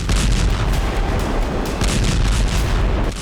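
Heavy explosions from a drone attack on a weapons supply warehouse in Donetsk roar in a loud, continuous barrage of deep booms and crackling blasts with no pause between them.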